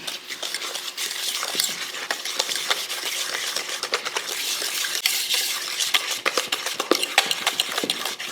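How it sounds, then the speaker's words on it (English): Apple cake batter with sugar and vanilla is stirred vigorously in a bowl, giving a continuous close-up scraping and sloshing with rapid uneven clicks of the utensil against the bowl. "go ahead and give this a really good stir"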